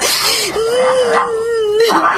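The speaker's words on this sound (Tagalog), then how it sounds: "Pinakawalan ng papang mga aso." Dogs being let loose, with a loud, close, drawn-out whining howl that wavers in pitch and a short yip-like cry at the end.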